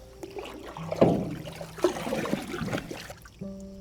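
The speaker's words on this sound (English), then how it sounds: "We can pretty much row some of the water down because there's gonna be colder water at the bottom and hot water at the top." A paddle sloshes and stirs water in a wood-fired hot tub, giving close, irregular splashes and swirls over a low background drone.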